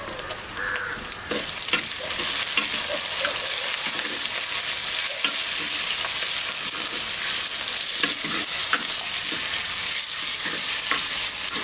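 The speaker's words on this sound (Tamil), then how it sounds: "தக்காளி நல்லா வதங்கணும் நல்லா வதக்கி எடுத்துக்கலாம்" Chopped tomatoes and onions sauté in a pan for a Navara fish curry, with a constant close sizzle broken by repeated spatula scrapes and stirring strokes, and no voices.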